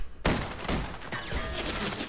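Gunshots ring out in The Walking Dead: A New Frontier as a group opens fire: three loud, close blasts spaced about half a second apart, each with a ringing tail, over a rumbling background.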